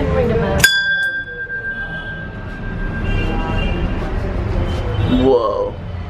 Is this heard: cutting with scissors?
no